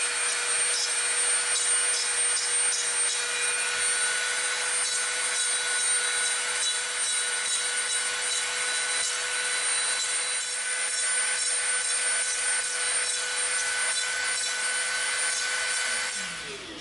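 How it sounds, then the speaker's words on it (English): A rotary tool with a rough bit grinds dried, chunky super glue off EVA foam fins on a foam EE3 carbine prop, a continuous high-pitched whine and abrasive buzz running unbroken and close until it stops at the end. "we're going to come in with our rough bit and we're going to eat off some of this really chunky super glue that dried on these"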